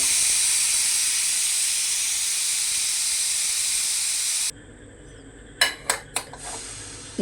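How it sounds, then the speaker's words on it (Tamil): Steam hisses hard and steadily out of a pressure cooker as its pressure is let off, a loud broad rush that stops suddenly, followed by a few sharp metallic clinks of the cooker parts. "இப்போ கேஸ் எல்லாம் வெளியே வந்துச்சு."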